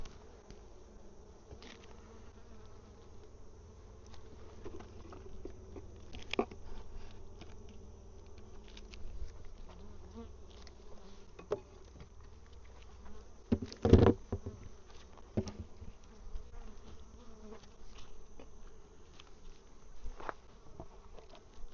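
A dense, steady buzz of honeybee nurse bees clustered inside a hive fills the scene up close, with occasional bumps and knocks against the frames.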